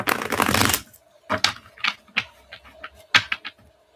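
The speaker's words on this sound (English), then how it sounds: "One more shuffle, please." Tarot cards are shuffled in one loud riffling burst up front, followed by a string of soft, separate taps and flicks as cards are squared and handled nearby, with no talk.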